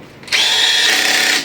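Electric drill whirring steadily at high speed for about a second after a quiet start, close and loud, used while servicing a Carrier inverter air conditioner.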